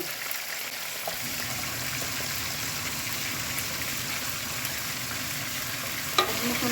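Fried onions sizzling in oil as spices are stirred in, producing a constant close crackle with a few faint scrapes and one sharp clink near the end.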